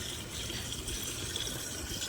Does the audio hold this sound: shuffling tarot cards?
no